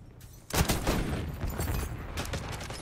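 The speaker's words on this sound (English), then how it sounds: "The guy's just shooting." Gunfire in the video game Black Ops 6: a sudden burst of rapid shots erupts after a brief quiet moment, then continues as a dense, loud, sustained barrage.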